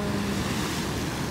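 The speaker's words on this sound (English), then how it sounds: "listening to the sounds of the waves" Ocean waves rushing steadily with wind noise at a beach in Bali at sunset, a continuous broad roar with no voices.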